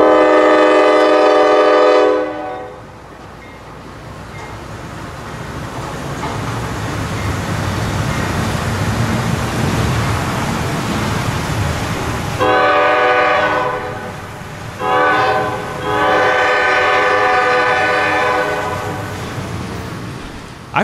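CSX freight train I-141 at Deshler, Ohio sounds a long, loud horn blast, rolls by with a heavy rumble, then lets out another long horn call broken by a brief gap.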